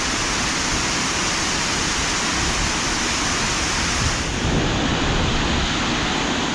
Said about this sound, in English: the power of the water pushing down over the waterfall brings a draft of air with it as well